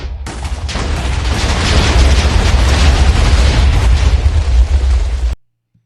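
Explosion sound effect from HitFilm editing software, a loud close blast that rumbles and crackles for about five seconds, then cuts off abruptly to silence.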